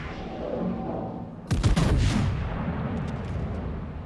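The Mutsu battleship's main guns fire in a naval video game as a single loud, deep boom that rolls out into a rumbling tail over a steady low ambient hum.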